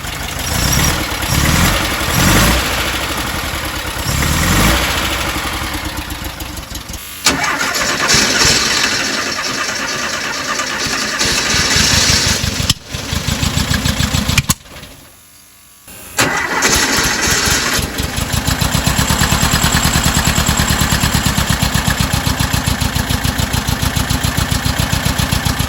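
A 1968 Porsche 912 with freshly adjusted idle mixture cranks, catches and settles into a loud, steady idle, cutting out briefly midway before restarting and running evenly again.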